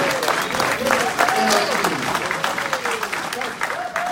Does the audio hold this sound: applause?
yes